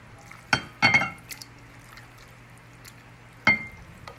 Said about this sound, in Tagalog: And ilagay na po natin ang chicken.